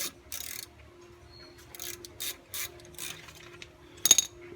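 Ratchet loosening brake caliper bolts on a 2004 Chevy Impala: several short clicking ratchet bursts with pauses between, close and fairly quiet, ending in a sharper metallic clack.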